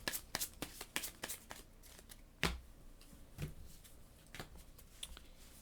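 Playing cards being shuffled and drawn during a solo game of Imperium Horizons, a quick series of crisp snapping riffles and slides up close, followed by scattered softer card flicks and taps.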